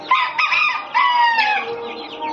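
Chickens cluck close by as a rooster crows loudly in several overlapping calls, with no talking.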